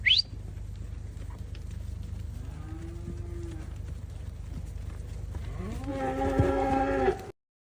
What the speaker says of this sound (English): Come load a cattle truck with me.